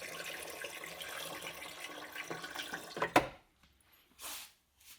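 Water is poured into the reservoir slot of a Gaggia Classic Pro espresso machine, a steady close splashing trickle for about three seconds, then it stops, followed by a couple of faint later splashes.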